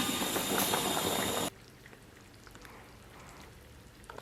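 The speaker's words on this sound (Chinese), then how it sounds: "开盖小火， 咱们给它炖上1个小时" A red-oil lamb spine stew bubbles in a pot over low heat. Dense, loud bubbling lasts about a second and a half, then drops abruptly to a faint, quiet background.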